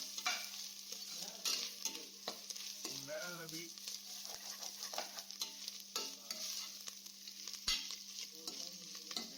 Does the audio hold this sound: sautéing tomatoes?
yes